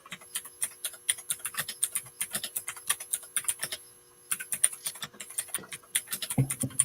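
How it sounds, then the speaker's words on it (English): Rapid, crisp clicks from a clicky mechanical computer keyboard come in close bursts of fast typing, with one short pause midway before the tapping resumes. "got one of those clicky keyboards"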